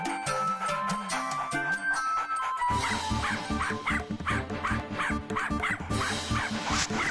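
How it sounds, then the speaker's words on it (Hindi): A dog in a Hindi children's TV episode barks in quick, high yips while sniffing out a bomb, repeated yaps over a busy music score, with a short whimpering stretch at the start. "चल शेरू, अब इस बम को सूंघ के मुझे वहाँ ले चल"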